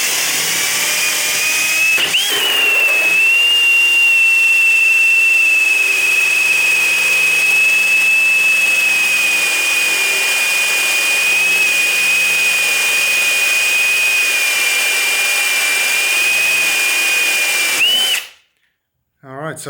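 A power drill drives a hole saw through timber, a loud, sustained high whine that spins up quickly, holds fairly steady and then cuts off abruptly near the end; no talking.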